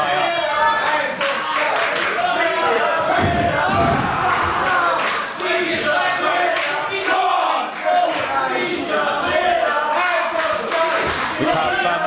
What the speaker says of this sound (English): The crowd firmly behind Peter Miller, but a few Andros Jay fans in the crowd